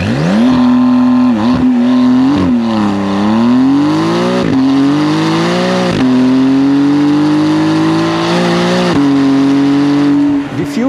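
A Porsche 992 with a TechArt exhaust revs hard and repeatedly, its exhaust note rising and falling in a loud, sustained roar close by.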